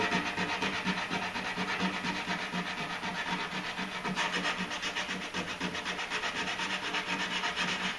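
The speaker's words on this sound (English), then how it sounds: "Using this 80 grit because I want that filler to have something to bite into" Body filler on a truck repair being hand-sanded with coarse 80 grit sandpaper, a rapid rhythmic rasping scrub repeating back and forth without pause, fairly quiet and close.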